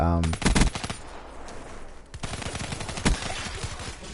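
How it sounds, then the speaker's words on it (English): Rapid bursts of automatic gunfire from the video game Call of Duty Black Ops 3 in a free-for-all match, loud and close, with a pause mid-clip before more sustained firing. "I'm trying to shoot one, and another always be popping up, Brett."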